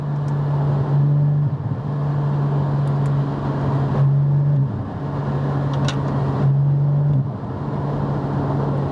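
Porsche GT4 with a Milltek exhaust, valves open, idling with a steady low drone and a couple of brief swells in revs, close and continuous with no talk.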